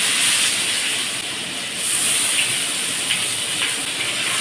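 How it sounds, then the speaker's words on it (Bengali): Onion going into hot oil in a kadai for a crab and eggplant chorchori, giving a steady broad hiss of frying with a few faint clicks, fairly loud and continuous, with no voices. "তেল গরম হয়ে গেছে, এবার পেঁয়াজটা দিয়ে দেবো।"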